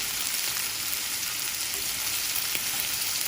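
Chicken browning for butter chicken in a pan makes a steady, dense, loud frying sizzle that holds evenly throughout, close up and without pause.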